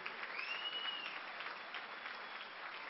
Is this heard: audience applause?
yes